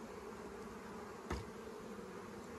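Honey bees hum steadily at an open beehive during a Varroa mite check, a dense continuous buzz with one brief louder knock partway through, close and without speech.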